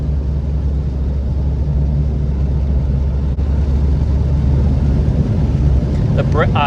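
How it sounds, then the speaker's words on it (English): A bugeye Subaru WRX with a catless downpipe exhaust drones loudly and continuously in a deep, steady rumble, with only a brief catch partway through. "But then when you open it, it screams. When the tube opens, she screams pretty good."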